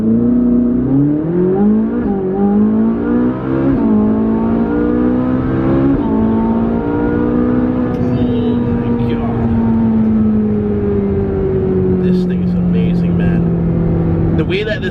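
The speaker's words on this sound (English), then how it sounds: "just take off from a stop and then blast it." A Ferrari 458 Spider pulls away hard from a stop, its engine loud and close as it climbs through several rising pulls with gear changes, then holds a steady high drone; faint other noises appear toward the end.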